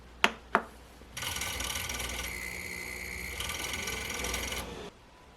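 A fridge compressor struggling to start while powered by an Acevolt Campower 700 power station, two sharp clicks and then a rough buzzing hum that holds for several seconds and cuts off abruptly.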